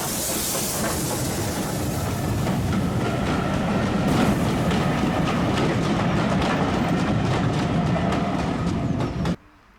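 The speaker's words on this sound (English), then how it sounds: "Eardington is a great place to catch trains at speed" A steam train on the Severn Valley Railway rushes past at speed near the top of a climb at a small rural station during a winter gala, loud and close, with steady rumble, hiss and rapid clickety-clack of wagons before cutting off abruptly.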